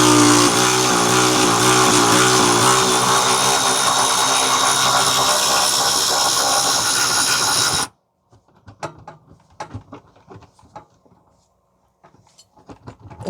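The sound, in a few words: electric ratchet removing bolt from differential bracket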